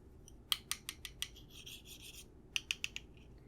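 Black colored pencil scratching and rubbing on paper in a Hocus Pocus coloring book, a series of crisp close strokes in bursts with a steady rasp between, no voice.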